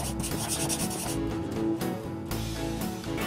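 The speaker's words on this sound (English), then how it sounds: "The bore brush has the tendency to unscrew itself as it's pushed through the bore." Bore brush pushed on a cleaning rod through an air gun barrel, giving a continuous close scraping rasp that shifts in pitch as the brush travels, with a short pause partway through.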